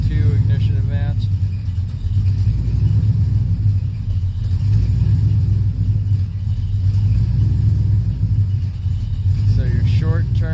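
A car engine idles steadily with a low, even hum after new oxygen sensors are fitted, its idle not quite settling, while someone talks briefly near the start and end.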